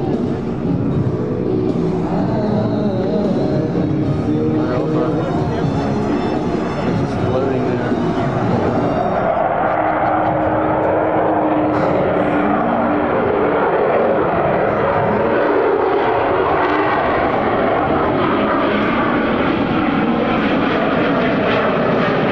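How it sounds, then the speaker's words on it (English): An F-35 Lightning II fighter jet lights its afterburner at an airshow, a roaring engine surging and building in power, a loud continuous rumble with a rising whine, sustained throughout. "she lights the afterburner and accelerates the aircraft"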